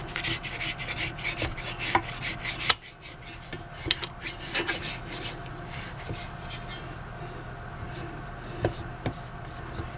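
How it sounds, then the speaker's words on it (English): A spatula scrapes around the sides of a mixing bowl of French bread dough in short, irregular rubbing strokes. The scraping is close and moderate, with occasional soft knocks and no talk. "scrape down the sides of the bowl"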